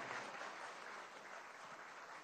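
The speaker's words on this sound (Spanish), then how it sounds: "un gran aplauso a Barcelona" Faint, distant applause from an audience at a Venezuelan government event rolls on as a steady wash of clapping for a couple of seconds, with no talk over it.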